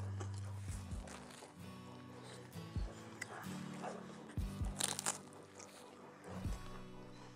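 Close crunchy chewing of a grilled meat patty with gyros and shawarma seasoning, irregular bites and mouth sounds over several seconds, fairly quiet, with no talk.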